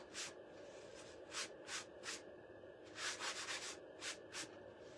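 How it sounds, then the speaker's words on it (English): Excess gold flakes are wiped off a painted door hanger in a series of soft, close rubbing strokes, each a brief brushing swish, irregularly spaced over a faint hiss. "I'm gonna see if I can wipe off any excess gold flakes here."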